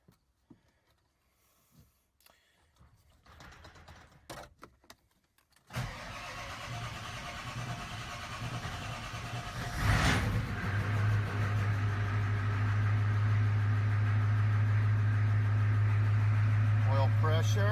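A Ford 7.3 IDI diesel engine in an OBS truck is quiet at first, then cranks and catches around six seconds in, settling into a loud, steady rumbling idle with brief voices early on.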